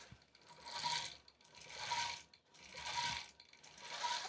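A longarm quilting machine stitches across a flannel baby quilt in a faint, rhythmic mechanical whir that swells and fades in four even passes, about one per second.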